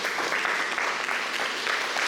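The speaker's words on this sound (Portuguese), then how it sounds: "Aplauda o Senhor." A church congregation applauding together in a worship service, a steady dense wash of many hands clapping at moderate level throughout with no pauses.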